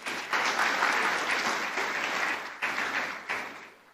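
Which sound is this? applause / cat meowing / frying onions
applause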